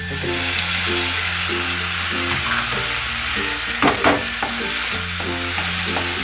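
Ground tomato sautéing in a pan for a spicy egg chukka gravy, a loud continuous frying sizzle with stirring, while a steady musical backing plays beneath.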